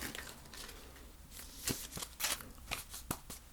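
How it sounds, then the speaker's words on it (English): A few quick riffling bursts of tarot cards being shuffled, soft and close, each a short papery flutter against quiet room tone. "It's not really natural for me to shuffle like this"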